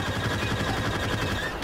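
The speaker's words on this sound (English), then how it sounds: "I think that guy's shooting at Bosk" Continuous gunfire from the Star Wars: Battlefront video game: a dense, steady stream of rapid shots and blasts rattling without pause for under two seconds, fairly loud, with no talking.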